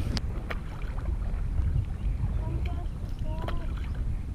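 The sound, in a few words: canoe paddling on the River Severn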